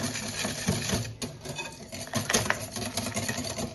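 A spoon or whisk stirring a risen dough starter mixed with egg white and refined oil, a close, steady scraping and swishing in a bowl with light clinks against the sides.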